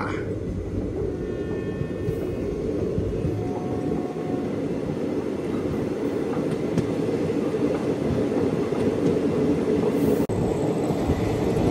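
Narsapur–Dharmavaram Express passenger train running through fish and prawn pond country, heard as a steady, loud, continuous rumble with wheel-on-rail roar and no talk.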